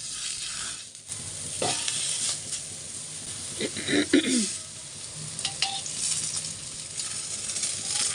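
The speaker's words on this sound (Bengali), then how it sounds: "চুলার আঁচটা একটু বাড়িয়ে দিয়েছি যাতে তাড়াতাড়ি ভাজা হয়ে যায়।" Eggplant sizzles in a hot pan over a raised flame, a steady close hiss broken by a few stirring scrapes and clinks.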